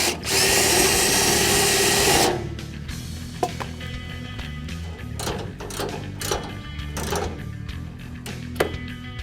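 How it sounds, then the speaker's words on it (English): A power drill whines loudly for about two seconds while clearancing a 1965 Mustang fog light part, then stops, followed by scattered clicks and taps of handling parts. "you can use a drill and just clearance it a little bit"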